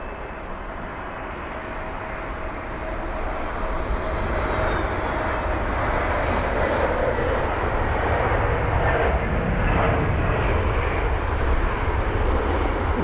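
Airbus A320neo airliner at London Heathrow, a steady broadband engine roar that builds slightly and holds loud and fairly near for the whole span, with faint distant traffic mixed in.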